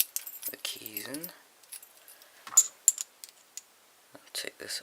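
Keys on a ring jangle and click as they are pushed into an American 1105 padlock, a burst of metallic chinking near the mic followed by sparser clicks and taps, with a voice heard briefly early on.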